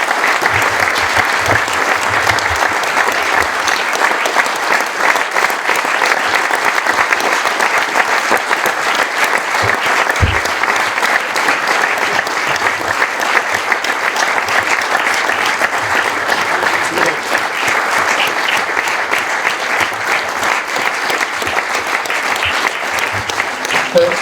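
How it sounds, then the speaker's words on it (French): Warm, sustained audience applause at the close of a study day at an arboretum, steady and dense throughout, with a few voices mixed into the crowd. "on va simplement remercier et applaudir très chaleureusement ces deux acteurs du spectacle vivant"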